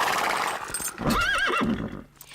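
An agitated cartoon horse in a stable box gives a loud, wavering whinny in the middle, with restless hoof clatter before it and the sound fading away at the end.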